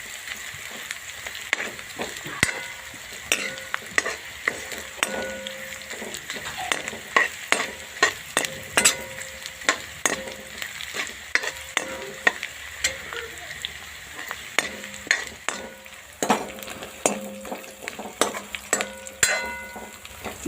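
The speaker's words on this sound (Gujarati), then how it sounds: "તમે જોઈ શકો છો આપણે ડુંગળી સરસ મજાની શેકાવા આવી ગઈ છે" Onions frying in hot oil for a Gujarati-style dal tadka, a steady sizzle broken by frequent scraping and clacking stirs of the spoon against the pan, close and alone.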